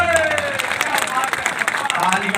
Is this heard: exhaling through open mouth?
no